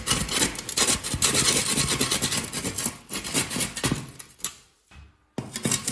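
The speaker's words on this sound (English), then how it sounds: "This stiff saw works pretty well, gouging out that really hard plaster" A stiff drywall saw gouges hard ceiling plaster with harsh, gritty rasping strokes in quick repeated pulls, close and loud, pausing briefly near the end before resuming.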